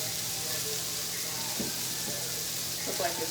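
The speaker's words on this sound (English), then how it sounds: "Now we're gonna add our pork chop to the skillet here." A pork chop sizzles in a skillet alongside frozen vegetables, a steady moderate frying hiss with a few soft knocks as it settles into the pan.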